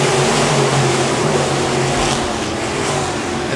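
Modified race cars roaring around Park Jefferson Speedway during a green-flag restart, a loud steady blur of engine noise across the whole span with no break.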